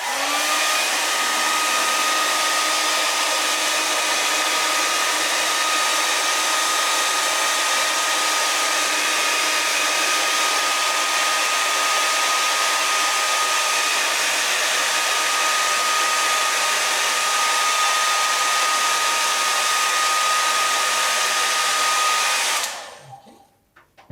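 Hair dryer blowing over an aquatint etching plate, a loud steady whooshing drone that runs without a break for about 23 seconds before switching off.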